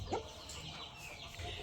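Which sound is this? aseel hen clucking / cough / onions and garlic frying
aseel hen clucking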